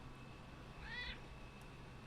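A person imitates a cat's meow, a single short mewing call at moderate distance over a quiet room hum, with no talk during it.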